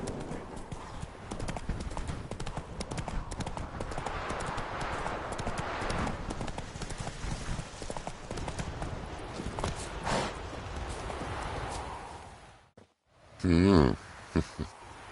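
Hooves of Roach, a horse in The Witcher 3, clip-clop in a rapid running gait on loud, continuous footfalls that stop abruptly near the end, followed by a brief tonal game sound.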